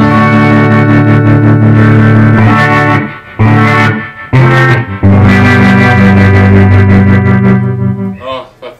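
A heavily distorted 2006 Mexican-made Fender Stratocaster in pickup position two plays sustained chords with thick, buzzy tone, briefly cutting out twice before ringing on loudly.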